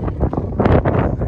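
Strong wind buffeting the microphone outdoors in Istanbul, a loud rumbling gusty roar that swells and surges continuously with no one talking.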